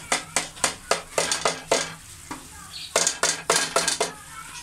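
Paste stirred and frying in a pan, a run of quick rhythmic scraping strokes with spoon on metal over a soft sizzle, close and steady with a short pause midway.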